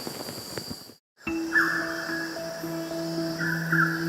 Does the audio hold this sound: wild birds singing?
yes